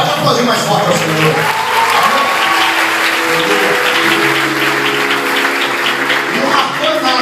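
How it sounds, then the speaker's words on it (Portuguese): A church congregation applauds loudly in praise, continuous clapping mixed with cheering and sustained musical tones from the worship setting, dense and strong for the whole stretch. "Pode aplaudir mais forte ao Senhor"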